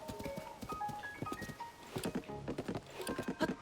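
A horse gallops in Zelda: Tears of the Kingdom, its rhythmic hoofbeats thudding quietly alongside game sounds, with no talk.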